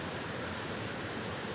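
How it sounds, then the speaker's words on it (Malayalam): Water flowing steadily in a park in Wayanad, a continuous broadband rushing wash with no breaks, fairly close and even in level, with no voices over it. "ഈ വെള്ളം ഇങ്ങനെ പോകുന്ന ഒരു ഫീൽ മാത്രമാണ്, ആ സൗണ്ട് മാത്രം"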